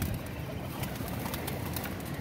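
Soft, throaty pigeon cooing close by, repeated low burbling calls over a steady noisy background.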